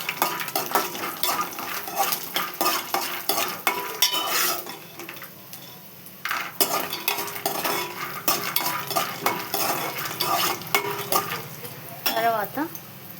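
Chillies frying in a pan, with a continuous sizzle and repeated scraping and clinking of a spoon stirring against the metal, close and busy throughout.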